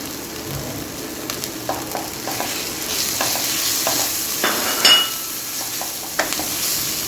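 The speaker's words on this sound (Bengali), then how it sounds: "আমার মশলাটা কষানো হয়ে গেছে" Ground spices, with chili, turmeric, coriander, garam masala and cumin, are stirred and fried in a pan. The sizzle is constant, and scraping stirs and light utensil clinks recur close by.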